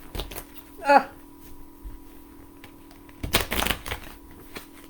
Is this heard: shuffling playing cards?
yes